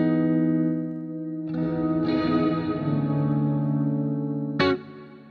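A MIDI guitar runs through an Upshot reverb: sustained harmonic chord tones swell and smear into a wash of reverb, with a sharp bright attack near the end before the sound thins out.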